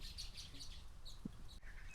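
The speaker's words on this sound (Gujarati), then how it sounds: "ચારે બાજુ પક્ષીઓ કલરવ કરે છે" Faint, scattered bird chirps high and thin over a steady low rumble, with a brief low thump partway through.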